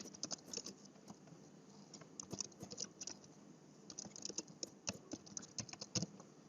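Keys clicking on a computer keyboard in quick, irregular bursts, faint and close, with short pauses between runs of typing.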